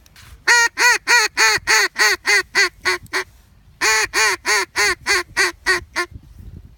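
A duck call imitating a hen mallard's morning greeting call, played as two loud, close runs of rhythmic quacks with a short pause between them, the second run slightly shorter.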